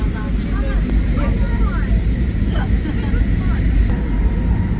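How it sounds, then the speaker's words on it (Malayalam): Steady loud roar of an airplane cabin during descent into Queenstown Airport between mountain ranges in New Zealand, constant engine and air noise throughout with faint tones on top. "അതിനകത്ത് വലിയ പർവ്വത നിരകളാണ് അതിനിടയ്ക്കൊക്കെ പോയി ഫ്ലൈറ്റ് ഇറങ്ങുകയാണ്"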